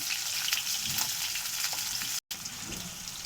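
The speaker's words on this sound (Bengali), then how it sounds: "পটলটা আমি লাল লাল করে ভাজবো" Continuous loud sizzling of pointed gourd frying in hot oil, crackling steadily throughout with one brief dropout near the end.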